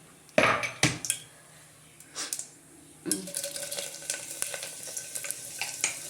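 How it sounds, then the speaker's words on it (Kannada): Mustard seeds and green chilies dropped into hot oil: two sharp bursts of spattering, then a lull, then a busy crackling sizzle with light utensil clinks, nearby and moderately loud. "ಸಾಸಿವೆ ಹಾಕಿದ್ದೀನಿ, ಹಾಕು. ಮೆಣಸಿನ್ಕಾಯಿ ಹಾಕು"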